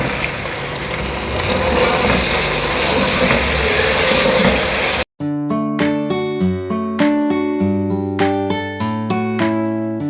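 Chicken sizzles and hisses steadily in a pan with fried ginger garlic paste, a dense close frying noise for about five seconds before music takes over.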